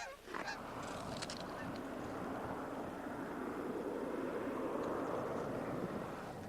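A flock of Canada geese honks overhead in a dense, steady chorus, with a faint rumble under the calls, heard outdoors from a hunting blind.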